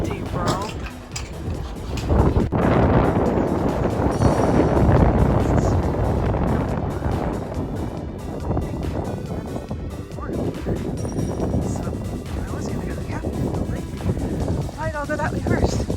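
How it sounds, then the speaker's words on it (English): Strong, gusty wind buffets the microphone outdoors near the Washington Monument in Washington, D.C., a loud, continuous roaring rumble throughout, with a brief voice near the end. "It also got really fucking windy right as I was filming this part."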